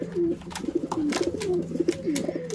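Tame pet pigeons or doves coo close by, a run of soft, rolling calls repeating every half second or so over a faint steady hum.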